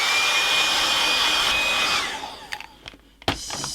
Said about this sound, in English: I've got my trusty hairdryer.